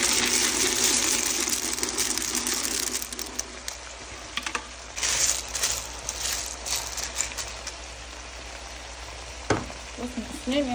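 Macaroni tipped into a sizzling pan of fried carrots, potatoes, tomato and minced meat, with rattling pasta, scraping stirs and a continuous frying hiss that grows uneven, plus a sharp clatter near the end.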